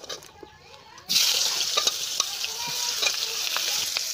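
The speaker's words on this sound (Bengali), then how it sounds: "তেলে দিয়ে দিচ্ছি পেঁয়াজ কোচানো" Chopped onion dropped into hot oil, quiet at first, then a sudden loud burst of sizzling that settles into a steady close crackle with light stirring scrapes.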